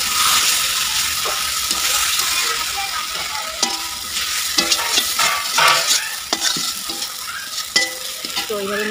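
Fish pieces fry in a spice masala, a loud close sizzle with a spatula stirring and scraping the pan in repeated strokes.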